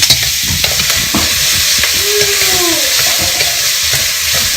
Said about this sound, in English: we're going to throw a little garlic in there